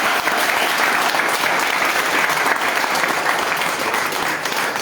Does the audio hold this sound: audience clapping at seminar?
yes